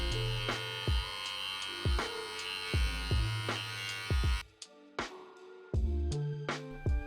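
A tattoo machine with round liner needles shades real skin, buzzing steadily in short, repeated bursts with brief pauses between passes, close and fairly quiet with no talking.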